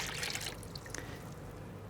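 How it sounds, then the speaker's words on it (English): Water poured into a household chlorine bleach disinfectant solution being mixed for domestic sanitising, a brief splashing pour at the start that quickly fades to quiet. "And then we will add the rest of our water."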